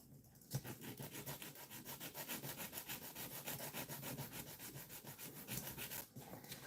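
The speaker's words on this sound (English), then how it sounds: "Let's get a piece of sandpaper that's a little bit more abrasive." Abrasive sandpaper scrapes steadily back and forth across a plastic scale model vehicle, a fast, even rhythm of close, gritty strokes that runs without pause and with no voices.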